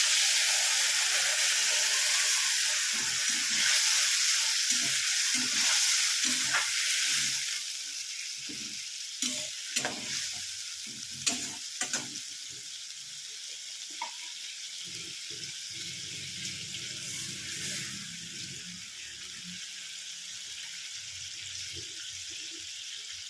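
Stone-ground ginger and cumin paste, loosened with a little water, frying in a pan for a Bengali fish curry: a steady, loud hiss of sizzling fat, with intermittent clinks and scrapes as it is stirred, and no talking.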